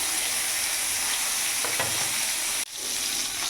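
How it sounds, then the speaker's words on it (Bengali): Eggplant fries over a medium flame in a pan, a dense, even sizzle close by with a faint scrape midway and a brief drop before the hiss resumes, no speech. "এদিকে বেগুনটা আমি ভেজে নেব।"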